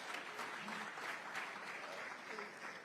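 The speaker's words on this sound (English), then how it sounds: "Give Julius Kiprop another round of applause" Conference audience applause for a speaker at an environment week closing ceremony, continuous moderate clapping heard from a distance with a faint voice murmuring beneath it.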